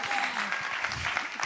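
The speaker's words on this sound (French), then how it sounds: "Est-ce qu'on peut applaudir pour Roncia, notre invité aujourd'hui?" A studio audience at a TV talk show applauds a guest in a brief burst of clapping, with voices mixed in over the applause.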